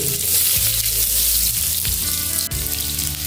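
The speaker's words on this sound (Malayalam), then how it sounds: "ചൂടായ വെളിച്ചെണ്ണയിലേക്ക് അര ടീസ്പൂൺ കടുക് ചേർക്കുക" Mustard seeds hit hot coconut oil in a pan and fry with a loud, dense, continuous sizzle and crackle, close up and steady throughout, with no talking.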